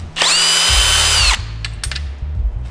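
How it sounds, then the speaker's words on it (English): A power drill whirs loudly and close for about a second, removing small threaded screws from tent legs, then winds down and stops, followed by a few faint clicks and handling taps. "What I'm going to use is a drill today, power drill."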